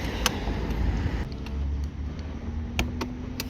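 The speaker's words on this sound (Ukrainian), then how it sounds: "ось відщолкнулося сидіння" The seat latch on a Yamaha Jog SA16 scooter pops open by key fob, giving a few sharp clicks over a steady low engine idle close by.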